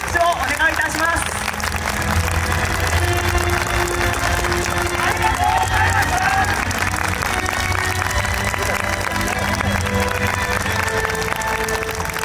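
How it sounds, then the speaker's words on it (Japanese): A large crowd at the Koiya Festival 2022 award ceremony finale applauds steadily for over twelve seconds, a dense wash of clapping with a few cheers layered over background music and faint talk. "皆様いま一度盛大な拍手をお願いいたします"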